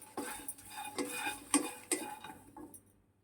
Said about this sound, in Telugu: దీనిలోనే తెల్లగడ్డలు లైట్గా వేయించుకుంటానండి, పచ్చి వాసన రాకుండా.